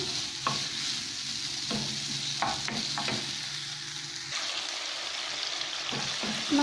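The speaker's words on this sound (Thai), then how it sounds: "ทีนี้เราก็มาคั่วหอมคั่วกระเทียมคั่วพริก" Shallots, garlic and chilies stir-fry in hot oil, a steady loud sizzle with intermittent clanks and scrapes of a utensil against the pan, close by.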